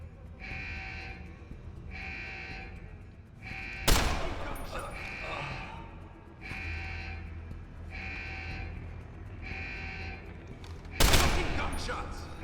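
Gunfire in the game Deus Ex: Human Revolution: two loud, sharp bursts of shots several seconds apart, cutting through a repeating pulsed electronic tone that plays throughout.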